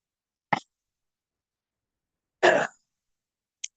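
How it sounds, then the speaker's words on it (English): Two short throat-clearing coughs separated by silence, the second louder and fuller, followed by a faint click. "sorry, I have that cough again."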